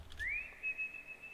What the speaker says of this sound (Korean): 휘파람 불면서 죽읍시다.